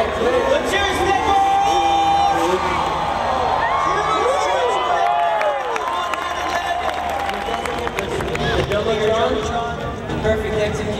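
A crowd at a freestyle motocross competition cheers and whoops for the rider Twitch, a sustained roar with rising yells and whistles, mixed with a commentator talking and loud arena sound throughout.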